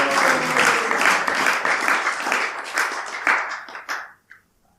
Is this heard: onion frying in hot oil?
no